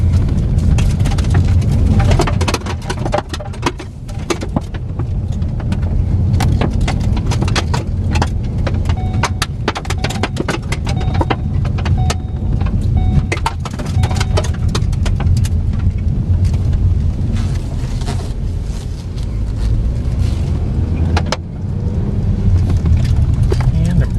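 A salvage repairable 2014 Ford Focus SE with 29,851 miles drives along, its low engine and road rumble steady inside the cabin, with clicks and rattles scattered through and someone talking at times.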